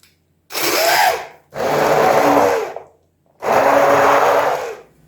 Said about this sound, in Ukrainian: Я буду перетирати погружним блендером.